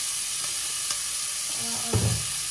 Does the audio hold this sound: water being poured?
no